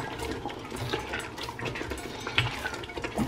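Tomatoes being stirred into egusi stew in a pot, with a continuous wet, soft churning and scraping close by and a brief utensil clink partway through.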